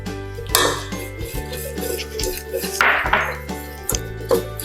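Flour stirred into melted butter in a pan to make a roux, with repeated clinks and scrapes of a utensil against the pan and steady background music under the stirring.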